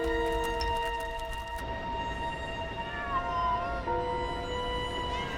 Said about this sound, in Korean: 그런데 그때 울음소리를 들은 이 영역 고양이들이 몰려옵니다.